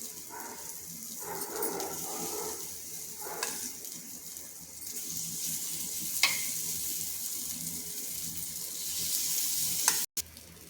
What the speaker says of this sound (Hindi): इसी तरह से सारे बैटर को सब अपने तवे में डाल देंगे।